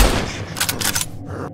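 A gunshot sounds in the video game Mist Survival, a loud sharp report at the very start that trails into a rumbling echo, followed by brief crackling bursts.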